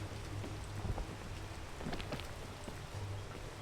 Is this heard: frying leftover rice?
no